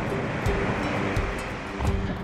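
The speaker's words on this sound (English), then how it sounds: "So this wall right here really bounces back waves." Pacific Ocean waves slap against and rebound off a pier wall, a dense continuous roar of surf with wind buffeting and no voices.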